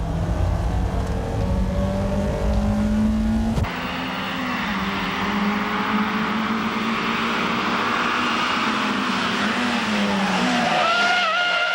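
Race cars, including a Kadett, Peugeot 205, Golf, Pulsar, Integra and NX, roar past with loud engines, tires screeching and skidding as brakes lock under hard braking, a continuous high-pitched squeal over the engine drone.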